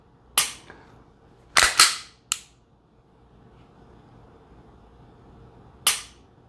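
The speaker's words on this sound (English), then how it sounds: "You want to pull that trigger and so that gun doesn't move and you've got good trigger control." A Glock 19 pistol makes sharp, isolated dry-fire trigger clicks during laser practice: a single click, then a quick close pair and another, a pause, and one final snap in a quiet room.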